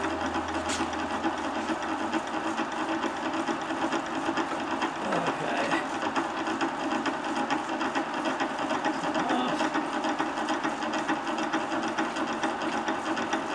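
Small milling machine taking a light cut of about a millimetre in metal with a 2-flute APMX insertable cutter, a steady continuous whine and chatter running throughout at moderate level, close by with no talk.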